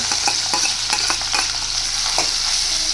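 Hot oil sizzles loudly and close as chilli thecha for a brinjal bharit meal goes into the pan, a dense continuous hiss with quick crackling bursts and stirring clicks, no talking.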